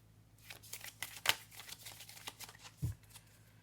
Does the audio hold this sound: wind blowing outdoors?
no